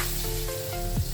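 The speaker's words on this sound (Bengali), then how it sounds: "মশলা দিয়েছি, এখন ভালোভাবে কষিয়ে নেব।" A spice paste of coriander and turmeric powder with salt fries in hot oil for a fish curry, a loud, dense, continuous sizzle heard up close, with a brief stirring scrape near the end.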